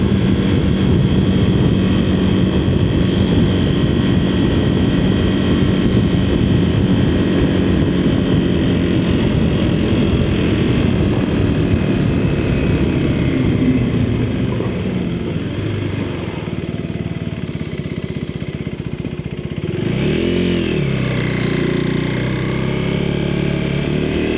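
Motorcycle being ridden on the road, a continuous loud engine drone with wind rush from the rider's position, dipping briefly then surging again near the end.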